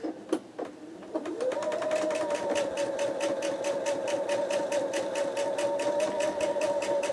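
A sewing machine stitches quilt block pieces up close, starting after a few handling clicks and then running in a fast, even, rhythmic whir for several seconds.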